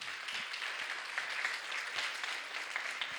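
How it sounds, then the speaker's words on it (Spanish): A congregation at a Spanish-language church service claps in steady, fairly faint applause, a continuous rustling patter of many hands lasting a few seconds with no speech over it. "Denle un aplauso al Señor."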